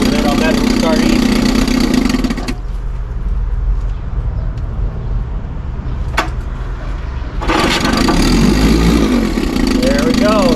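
A 1957 Sea King 5HP outboard motor runs loud and steady, then cuts out for several seconds of quieter rumble before restarting and settling back into a strong, even idle.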